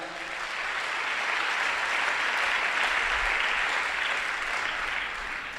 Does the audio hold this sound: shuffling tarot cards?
no